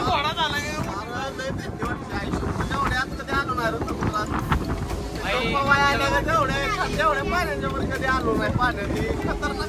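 A boat out on the sea off Malvan moves with a steady engine and water rush, buffeted by strong wind across the microphone while people talk loudly over it.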